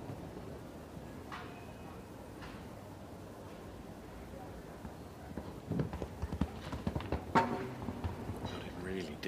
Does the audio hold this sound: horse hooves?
yes